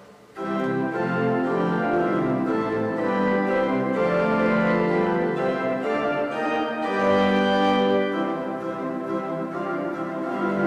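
A pipe organ's principal, or diapason, stops sustain a rich, steady chordal passage, full and even in volume, moving slowly between chords without pause for about ten seconds.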